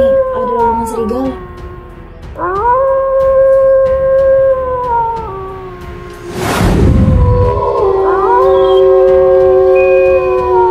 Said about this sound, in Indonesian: Tumben malam ini ada lolongan serigala.